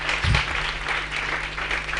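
Audience applause for a performer at a talent discovery event, a dense burst of clapping that carries on steadily and fairly close for two seconds.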